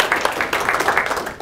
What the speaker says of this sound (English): So everyone just a little round of applause.